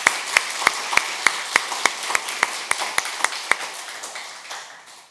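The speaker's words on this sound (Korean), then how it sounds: "그 하나님께 감사의 박수를 올려드립니다" A church congregation at a Korean Baptist Sunday worship service claps together in a steady, unified rhythm, sharp rhythmic claps over a softer wash of scattered applause, fading out near the end.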